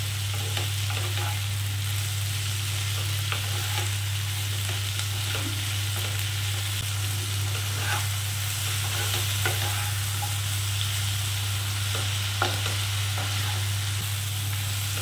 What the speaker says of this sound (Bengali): একসঙ্গেই সবগুলো একটু নাড়াচাড়া করে নেব।